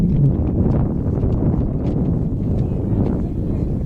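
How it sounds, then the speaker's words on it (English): Gusty wind buffets the microphone at an outdoor high school baseball game, a loud continuous rumble that persists throughout. "The wind gust amps up just a bit."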